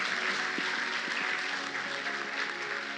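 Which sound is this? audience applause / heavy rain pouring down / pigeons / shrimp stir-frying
audience applause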